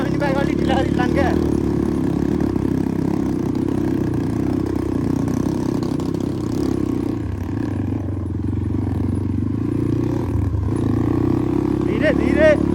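A motorcycle rides slowly along a dusty mountain trail in Dolpa, its steady mid-pitched engine drone running throughout under a man's speech.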